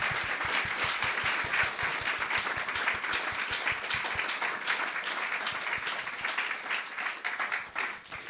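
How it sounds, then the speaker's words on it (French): An audience applauds for several seconds, with steady clapping from a crowd in a room that tapers off near the end. "Je pense qu'on peut commencer par l'applaudir et vraiment le remercier d'être venu."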